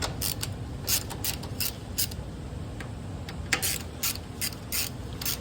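A Torx T27 bit turning out a fastener on a Triumph Rocket III Touring motorcycle gives close, dry ratcheting clicks and creaks in short irregular bursts with pauses between them.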